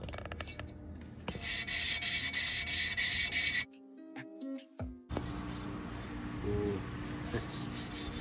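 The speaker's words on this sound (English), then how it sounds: "This is what you want your valves to sound like. They're seating perfectly now." Valves on a 2005 Honda CRF250R dirt bike engine are lapped against their seats, making close rubbing and grinding sounds that pause briefly midway for a few small clicks and knocks before the grinding resumes.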